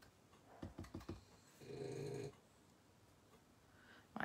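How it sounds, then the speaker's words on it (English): A dog snores softly nearby in a quiet room: one drawn-out, buzzy snore sits between a few light tapping sounds, and the scene is faint overall. "Sorry, Dolly is now snoring."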